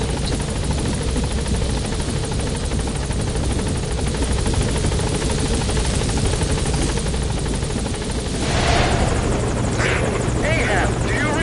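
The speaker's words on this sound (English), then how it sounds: "Support helicopter is arrived." A support helicopter arrives in the video game Metal Gear Solid V: The Phantom Pain, rotor drone loud and continuous throughout, with radio-style speech and sharper effects rising near the end.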